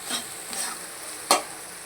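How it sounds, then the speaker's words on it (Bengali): Onions frying in oil in a pan, stirred with a utensil: a soft steady sizzle runs under several scraping stirs, one sharper clatter near the end, with no talking. "লাল লাল করে পেঁয়াজটা ভাজা হয়ে গেছে।"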